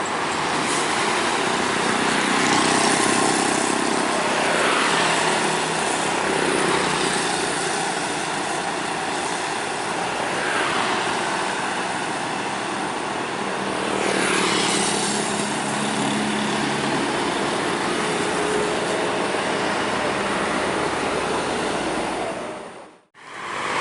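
A PT Pelangi bus engine roars loud and close on a curve, swelling and easing in waves for over twenty seconds before a brief sudden cut, no voices over it.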